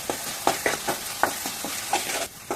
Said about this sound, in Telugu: బాగా మిక్స్ చేసుకుందాం.